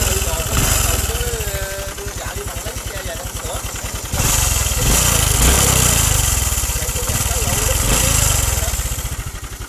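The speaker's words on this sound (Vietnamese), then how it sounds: "Cái xe này nó kêu dữ lắm anh em ơi." A motorcycle engine with a fault runs loud and rough, a fast rattling chug with a clattering, uneven idle that surges partway through, heard close with people talking over it.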